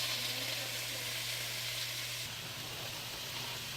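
Pineapple chicken stir fry sizzles in sesame oil in a stainless steel non-stick wok: a soft, continuous broadband hiss with no talking.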